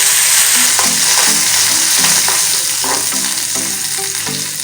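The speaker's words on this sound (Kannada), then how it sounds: "ಮತ್ತು ಆನಿಯನ್ ಇದು ಕಲರ್ ಚೇಂಜ್ ಆಗೋಂತ ಫ್ರೈ ಮಾಡ್ಕೊಡು" Onion, garlic and green chilli frying in hot oil in a pan, a steady loud sizzle with intermittent stirring scrapes and clinks throughout, no talking.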